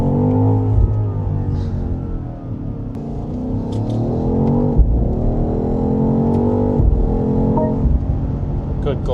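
A BMW XM hybrid SUV launches hard under launch control, its engine note climbing and dropping through several gear changes as it accelerates, loud and close inside the cabin with steady roar throughout.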